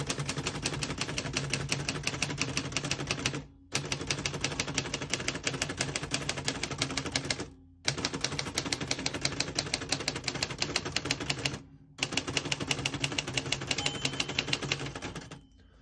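A 1941 Royal Aristocrat portable typewriter is typed on in fast, steady runs of sharp key strikes, broken by three brief pauses, close and clear with no talking.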